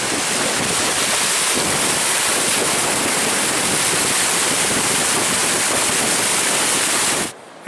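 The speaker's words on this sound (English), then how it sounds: "And this will be my favorite waterfall in this section of the trail." A waterfall on the Lake Superior shoreline trail at Pictured Rocks, Michigan, in winter roars as a loud, steady broadband rush that holds constant before cutting off abruptly near the end.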